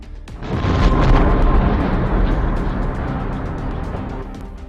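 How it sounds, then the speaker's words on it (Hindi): A loud, deep blast of roughly 350 kg of explosives in the Pulwama attack, starting with a sharp crack and becoming a long rolling boom, slowly fading over several seconds. "एक जोरदार धमाका।"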